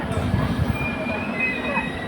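A long train passes on an adjacent track beside a stationary train halted near Dogra station en route from Alipurduar Junction, a steady loud rumble with faint wheel squeal throughout.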